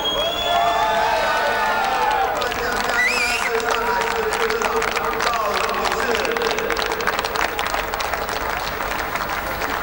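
Teammates cheer and applaud as an A1GP race winner is presented with the trophy on the podium in Shanghai, a steady, lively crowd roar with clapping and whistles lasting throughout, talk mixed into the noise.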